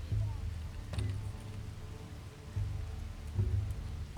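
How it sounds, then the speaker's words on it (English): Rain falls in the prehistoric survival game Dawn of Man as a faint, steady hiss beneath low, droning ambient tones, with no voices. "And it's raining again."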